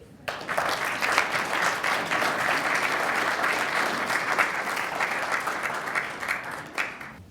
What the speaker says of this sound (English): So please join me in a round of applause for all of our sponsors and donors.